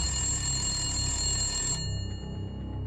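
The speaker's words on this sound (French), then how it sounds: "le calme est brisé par un coup de téléphone" A telephone rings at midday in a quiet vineyard house on a December day, a steady electronic bell tone sustained for almost two seconds before cutting off, leaving a faint low rumble behind.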